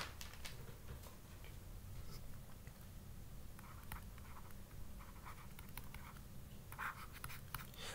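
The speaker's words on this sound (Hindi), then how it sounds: "मैं जो है यहां साइड में लिख लेता हूं" Marker or chalk scratching on a board in quick irregular strokes and taps, faint and close, over a low background hum.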